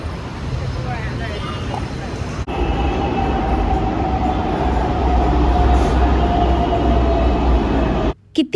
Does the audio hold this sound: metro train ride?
yes